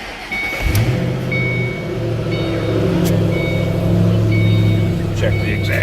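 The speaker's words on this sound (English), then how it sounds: "Let's go ahead and fire this one up." A 2006 Ford Mustang GT Premium coupe V8 cranks and catches, then settles into a steady, deep, loud idle with a slight rise in revs, close by and with no talk over it.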